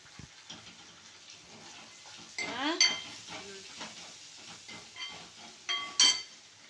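Chicken liver gravy fries in a pan and is stirred, giving a steady soft sizzle and hiss broken by scraping sweeps and a few louder clinks of a utensil against the pan, heard up close with no voices.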